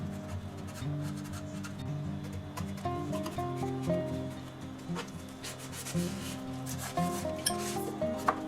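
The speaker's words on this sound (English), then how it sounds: "Use a screwdriver or rod, or anything to force the cleaning cloth into all the small spaces." A cleaning cloth is worked into the small crevices of a wooden sewing-machine foot control, giving a steady close rubbing and scraping with small squeaks, alone without talk.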